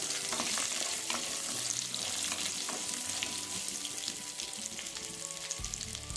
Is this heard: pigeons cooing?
no